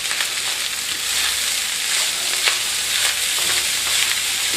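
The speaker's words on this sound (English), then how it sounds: "Anything that sizzles is good." Fried rice with chopped omelette sizzles steadily in a pan, a dense, continuous frying hiss with faint stirring scrapes and no talking.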